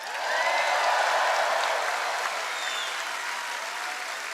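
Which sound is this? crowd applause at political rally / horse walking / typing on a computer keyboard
crowd applause at political rally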